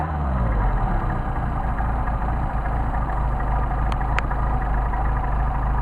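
A Porsche 930 engine runs steadily and close, moving from idle onto the main fuel circuit with an even, throaty rumble and two brief sharp clicks near the end.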